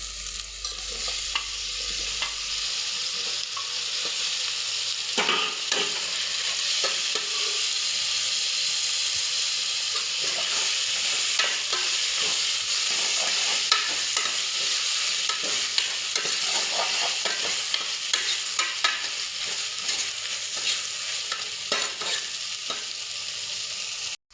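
Tomatoes sauté with ginger garlic paste in a pan for a thinai vegetable biryani: a steady, close sizzling hiss runs throughout, with frequent scraping and stirring sounds over it.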